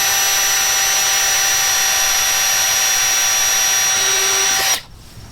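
Steady high-pitched whine of a power drill running a 1/8 bit through plastic to make a screw hole for a wind deflector on a 2018+ Honda GL1800 Gold Wing, loud and close, stopping abruptly near the end.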